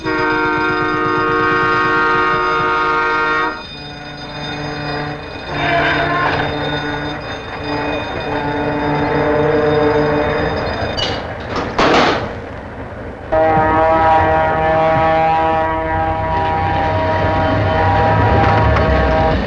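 A train rumbles past loudly after a snowstorm, its horn blaring in long sustained blasts, with a clattering break partway through before the horn sounds again.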